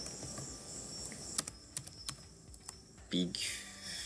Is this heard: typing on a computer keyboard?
yes